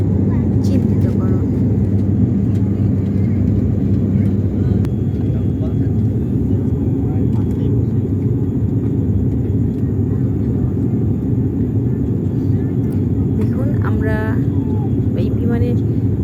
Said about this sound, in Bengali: এখন বিমানটি উড়ে যাচ্ছে